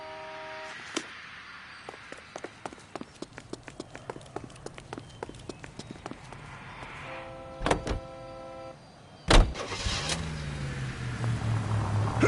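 A car in the L.A. Noire video game: scattered light clicks and taps, then a sharp thump and a steady engine hum that rises and swells toward the end, heard close with no talk.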